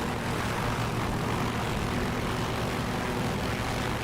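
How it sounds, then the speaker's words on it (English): A propeller aircraft engine in the DCS flight simulator drones loudly and continuously while the plane sits landed, an even, close roar with no one speaking. "You hear how the engine's winding up a lot now?"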